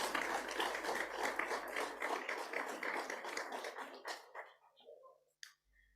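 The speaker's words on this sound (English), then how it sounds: "Let's give the CG another round of applause." An audience at a SACU regional Authorised Economic Operator awareness session gives the CG another round of applause. The dense clapping thins and fades out after about four seconds, leaving a few scattered claps and faint sounds.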